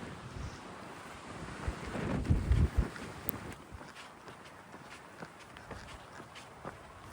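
Wind blows across the microphone while hikers walk along a desert wash on the Continental Divide Trail, a steady rushing hiss with a stronger gust early on and soft footsteps crunching underneath.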